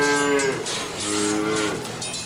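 An ox lows in a long, drawn-out moo with a slight rise and fall in pitch, close and clear, with no voices around it.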